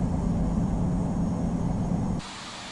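Steady broadband engine roar of a Cathay Pacific heavy airliner taxiing toward runway 14 right, loud and continuous, dropping abruptly in level near the end.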